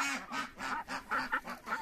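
Farmyard ducks quack in a rapid series of nasal, honking calls, a half dozen close bursts in quick rhythm, with geese kept on the same poultry farm.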